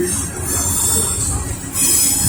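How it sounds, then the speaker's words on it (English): A CSX eastbound coal train rolls through downtown Lynchburg, Virginia, on double track, giving a steady rumble of wheels with high metallic squeal running throughout, swelling louder near the end. "I haven't caught a CSX train in such a long time."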